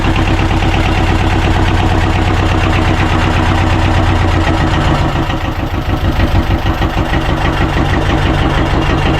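A boat's engine that had been revived after the boat sank runs at a steady idle, loud and close, with a fast, even chugging rhythm that roughens slightly partway through.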